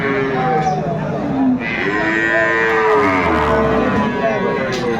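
Cows with calves mooing loudly amid a busy crowd at the Aftabganj cattle market in Bangladesh, several long low moos overlapping with steady background chatter.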